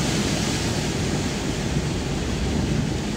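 Strong current of floodwater rushing along a flooded road in Bogtong Bolo, Mangatarem: a dense, steady roaring wash, loud and close, unbroken throughout.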